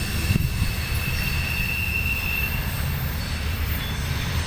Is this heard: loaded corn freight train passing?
yes